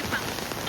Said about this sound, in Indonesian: Wow, hujannya deras banget, bro.